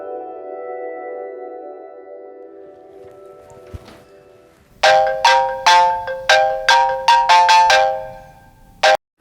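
A phone ringtone plays loudly in repeated short bursts of bright electronic tones, preceded by a softer sustained hum.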